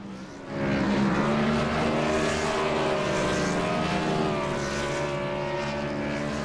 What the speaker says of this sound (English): these guys have gotten really good at these straight line burnouts